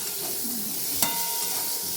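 Tomato and green chillies frying in a pan, a steady soft sizzle and hiss with a brief clink of a utensil stirring midway, no talking.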